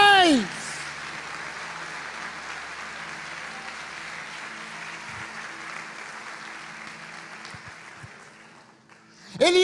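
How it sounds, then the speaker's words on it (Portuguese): A church congregation applauds with their hands raised overhead, a dense sustained wash of clapping lasting several seconds, with a preacher's amplified voice briefly at the start and end. "levanta a sua mão e aplauda acima da sua cabeça"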